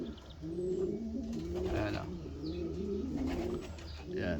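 Racing pigeon hens in a loft coo in low, rolling, overlapping calls that carry on throughout at close range.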